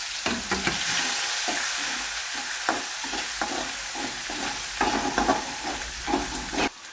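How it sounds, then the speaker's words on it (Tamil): Green chillies and garlic sauté in oil and butter for fried rice, giving a steady close sizzle broken by scraping stirring strokes, with no speech over it. "பச்சை மிளகாயும் பூண்டையும் பச்சை போட்டு வதக்கணும் நல்லா."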